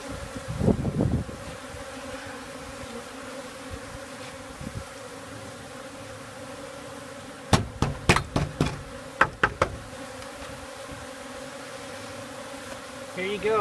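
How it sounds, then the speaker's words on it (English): A honey bee swarm hums steadily while moving into a cavity, a continuous buzzing drone throughout, with a few loud knocking thumps near the start and a cluster of sharp knocks in the middle. "this is exactly what happens when bees find a cavity and when they want to move into it"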